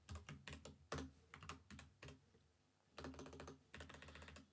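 Rapid typing on a computer keyboard, close and fairly quiet, comes in dense clattering bursts of keystrokes separated by a short pause, with no talking.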